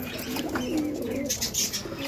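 Pet pigeons cooing near their cleaned cage, soft throaty coos repeating in a close, gentle murmur with faint chirps.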